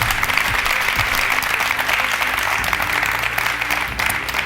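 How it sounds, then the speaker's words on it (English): A studio audience applauds a debater on a televised leadership contest show, with loud, dense and continuous clapping that holds steady throughout. "round of applause to debate number 2"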